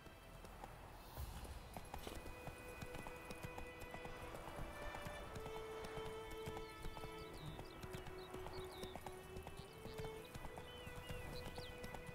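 Roach, a horse in The Witcher 3, gallops with steady rhythmic clip-clop hoofbeats and an occasional whinny, loud and continuous under in-game ambience and sustained tones.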